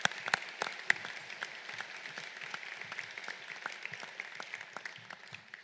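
Luncheon audience clapping together, a dense, even patter of many hands with a few sharper claps at the start, continuing steadily and somewhat distant for several seconds.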